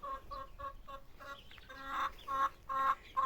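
Chickens cluck in a steady run of short, repeated calls, close by and fairly loud, with a few louder squawks near the end.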